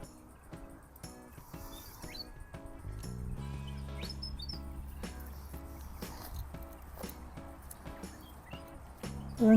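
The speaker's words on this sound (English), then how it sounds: "Lots of birds. I don't know if you can hear the birds now." Small birds chirp and call from trees beside the Murray River in Western Australia, brief bright notes scattered at moderate distance over a soft outdoor background with a low hum in the middle.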